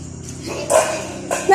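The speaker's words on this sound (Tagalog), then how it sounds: "Aso ni Auntie Del." Puppy barking, two short high yips close by, overlapping with people talking.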